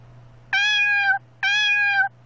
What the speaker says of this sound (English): Cat? Kitty cats!